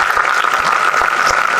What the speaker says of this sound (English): If you are clapping, clap please